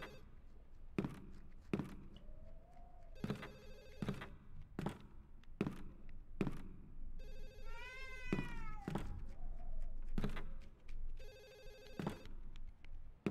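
A phone rings in a room during a Wii horror game session, its repeated tonal rings coming in bursts between sharp game noises and cat-like wails.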